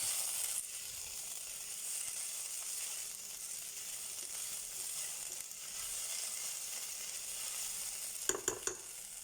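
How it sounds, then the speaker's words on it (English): Onions fry and brown in a pan with a continuous close sizzle, then a short burst of clicking and scraping near the end. "the onions are nicely browning off"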